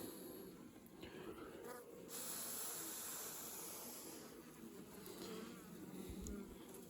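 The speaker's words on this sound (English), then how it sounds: "thick layer of bees here, really tight sort of cluster" Honeybees packed in a tight winter cluster inside a hive hum in a steady, dense drone that swells slightly midway, close and continuous with no voices.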